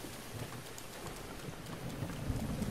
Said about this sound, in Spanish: Vale, por todo aquí llueve